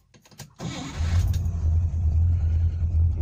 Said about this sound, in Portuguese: Vou funcionar o carro.